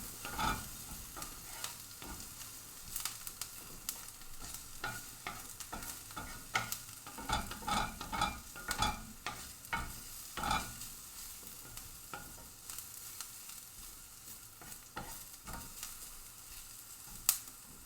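Quiet stirring and scraping in a pan of sizzling vegetables for taco fillings, with irregular clinks of a utensil over a soft, constant fry.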